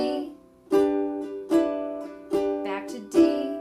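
Ukulele strums a blues shuffle in D, four bright chord hits at a steady swung pulse, each ringing briefly before the next, close and unaccompanied.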